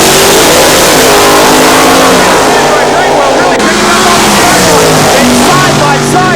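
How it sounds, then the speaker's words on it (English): A funny car powered by a big cubic-inch Chevrolet engine races side by side down a drag strip, with a continuous loud roar of engines at full throttle throughout and no pauses. "Side by side as they go down the drag strip, anybody's race."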